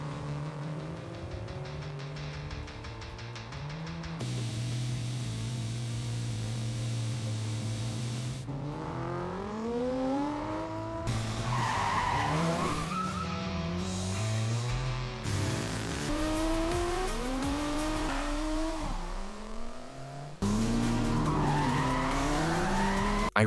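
A car in an action sequence accelerates and skids, with repeated long tire squeals that rise and fall in pitch over a steady engine roar, cut into loud, close separate takes.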